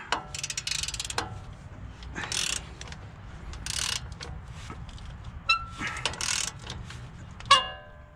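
Ratchet wrench with a 21 mm socket tightening a strut nut on a 2016 RAM 1500 4x4 during a leveling strut install, heard as several bursts of rapid clicking ratchet strokes with short pauses between, close and fairly loud.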